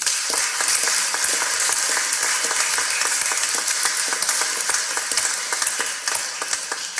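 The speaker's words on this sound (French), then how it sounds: "je vous demande de les applaudir bien chaleureusement" An assembly in a French public council session gives a warm, sustained round of applause, a dense, steady wash of many hands clapping that fills the room for several seconds without any talk.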